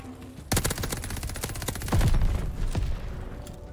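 Assault rifles fire in the video game Call of Duty Vanguard as a burst of rapid automatic shots starts abruptly, followed by scattered further shots and thumps at close range.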